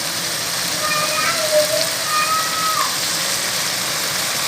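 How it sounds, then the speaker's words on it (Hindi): Minced meat and oil frying over high heat for dhaba-style aloo keema, a steady broadband sizzle with no breaks, with a few faint tonal clinks and scrapes from the middle onward. "तो इसको तेज़ आंच पे भूनें और इन दोनों को पकाएं।"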